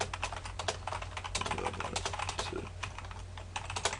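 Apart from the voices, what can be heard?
typing on a computer keyboard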